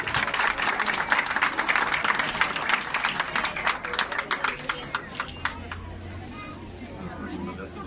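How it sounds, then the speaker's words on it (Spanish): Enthusiastic audience applause at a collective civil wedding ceremony, dense clapping under crowd chatter that thins into scattered claps and fades within several seconds. "quiero un fuerte aplauso también para ellos"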